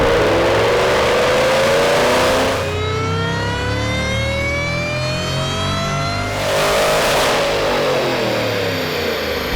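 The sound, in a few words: 2011 Shelby GT500 Mustang engine revving during dyno pull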